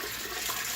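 Hot water running steadily from a tap, a constant broad splashing rush with no pauses, close and fairly loud, heard alone.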